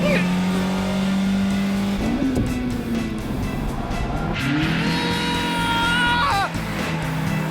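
A drifting car's engine roars loudly and continuously, rising and falling in pitch with revving, with tire squeal mixed in during a street racing scene; voices speak over it.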